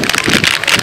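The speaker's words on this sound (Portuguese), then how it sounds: "Ai, esse vento." Gusty outdoor wind buffets the microphone in loud, uneven rumbling bursts for under a second.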